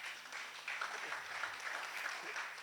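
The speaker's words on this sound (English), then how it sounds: "Please, a round of applause." Applause from an audience at a clean cook stove distribution event in Lagos, a steady, fairly faint wash of clapping that holds at an even level for its whole length.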